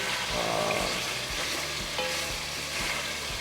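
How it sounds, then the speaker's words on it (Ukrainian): Beef sizzles in oil in a kazan while being cooked for plov, a close, continuous crackling fry with soft stirring scrapes and no talking. "Додаю, як ви бачите, яловичину, не додаю туди нічого баранячого"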